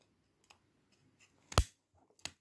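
Two sharp snips of scissors trimming excess material on a homemade portable CB radio battery pack, close and isolated, with faint handling clicks between them.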